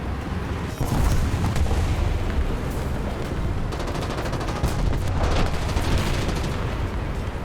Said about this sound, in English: artillery's right behind us